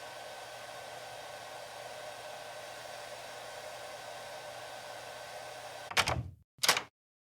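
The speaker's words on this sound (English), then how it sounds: "You've been using the hairdryer for half an hour." A hair dryer blows steadily with a constant whirring hum for several seconds, then cuts off, followed by two short clunks.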